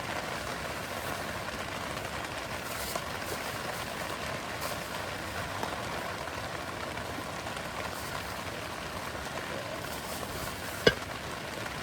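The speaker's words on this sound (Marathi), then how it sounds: "भरपूर म्हणजे भरपूर पाऊस आहे आज" Steady heavy rain pours down at a campsite, a dense even hiss of drops with no talk and one sharp tap near the end.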